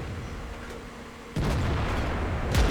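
A tank gun fires a HEAT round in a video game: one sudden deep boom lands about halfway through, followed by a rumbling tail and a faint later crack.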